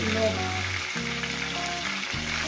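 Taro corms frying in a hot pan give off a steady, close sizzle that runs without pause, with a low tonal hum underneath.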